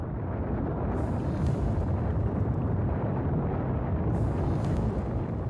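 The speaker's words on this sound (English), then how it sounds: "While we watch a few rocket launches." Continuous deep roaring rumble of rocket launches in the Factorio video game, a steady loud blast with low-end thunder sustained throughout, with brief hissy surges near the start and end.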